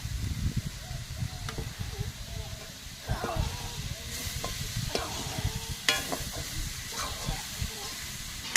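Slit green chili dropped into a hot pan with potatoes, frying on a low flame with a soft steady sizzle and occasional scraping stirs, quiet throughout, with someone speaking over it.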